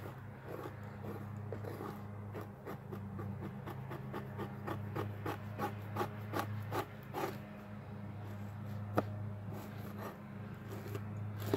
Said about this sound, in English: scraping the edges of your hide to get all the membrane off, you will inevitably scrape your board